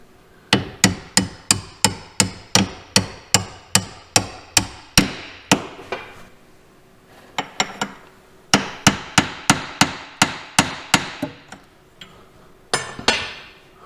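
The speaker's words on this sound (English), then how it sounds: "so now I can drive this bolt out" Steady, close hammer blows drive a bolt out of the rear leaf spring on a Ford F350, two long runs of evenly spaced ringing metallic strikes broken by a short pause and a few scattered hits.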